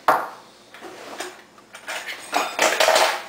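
Metal cutlery clinks and rattles as someone rummages for a spoon or fork in a home kitchen, with several close, bright clatters of varying loudness and short pauses between.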